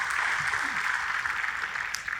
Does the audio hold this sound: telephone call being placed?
no